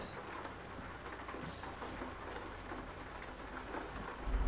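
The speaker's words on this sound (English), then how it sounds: "It is raining hard out here." Heavy rain pours steadily outdoors in the dark, a dense continuous hiss of drops hitting surfaces, with a low rumble swelling near the end.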